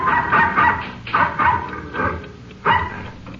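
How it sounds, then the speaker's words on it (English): Dog barking in an old-time radio drama sound effect, a rural night scene in Carson County, Texas: several loud, close barks in quick uneven bursts, alone with no talk. "the occupants were awakened by the barking of a dog"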